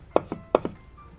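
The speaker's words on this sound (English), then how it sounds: "take a shiitake mushroom, slice it super thin" A knife cuts thin slices from a shiitake mushroom on a board, giving four crisp, close taps in two quick pairs, with quiet between them.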